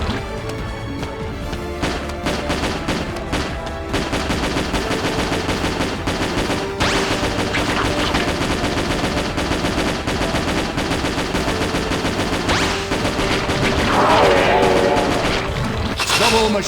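Rapid, sustained bursts of gunfire from the Metal Slug 3D video game rattle on almost without pause, loud and dense, with heavier crashes and thuds layered over a driving game soundtrack.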